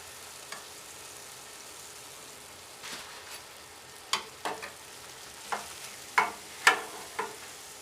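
Cameroonian gateau dough frying in oil in a pan, heard close up as a soft bubbling sizzle broken by several sharper crackles and stirring clicks that grow more frequent toward the end, with no talking.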